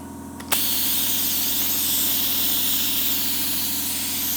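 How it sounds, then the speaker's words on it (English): An air compressor loads up to run a pneumatic tufting gun, starting with a sharp thump and then a steady, loud motor drone with a strong hissing rush that carries on unbroken and with no voices. "So it's an air tool, the tufting gun. So it needs a compressor to load up."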